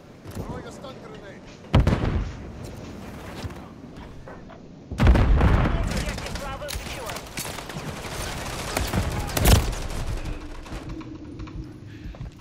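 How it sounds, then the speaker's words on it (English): A stun grenade goes off amid gunfire in a first-person shooter, with a sharp blast followed later by a loud burst and dense, continuing rattling shots and booms while a player talks over the action. "Throwing a stun grenade."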